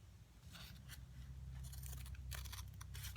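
Scissors snip through folded paper coffee filters while shaping craft peonies, several short crisp cuts close by over a steady low background hum, with no talking.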